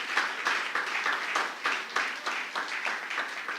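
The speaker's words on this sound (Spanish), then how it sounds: "¿Cuántos le pueden dar un aplauso al Señor?" A church congregation claps together in steady rhythmic bursts, a warm mid-distance applause that keeps going without pause.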